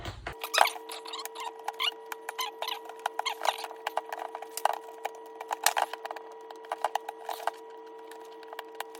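Stiff plastic blister packaging around Anker Soundcore Life 2 Neo wireless headphones is squeezed and pried at, a close, dense run of crinkles, crackles and sharp snaps over a steady background hum, with no talking.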